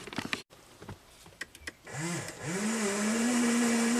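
An electric pump drains green coolant from the windshield washer reservoir of a 1984 Porsche 928 S, starting after a few clicks and then whining steadily and loudly, its pitch wobbling before settling into a constant drone.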